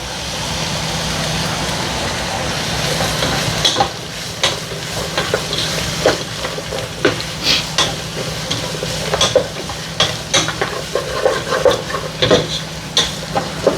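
Onions, curry leaves and garlic sizzle in a pan for squid curry, a steady fry that turns into repeated scraping stirs with a spoon, close and fairly loud, with no voices.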